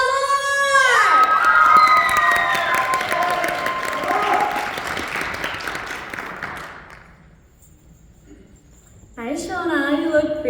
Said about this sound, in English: let's give another round of applause to contestant number 1, Putter Tao!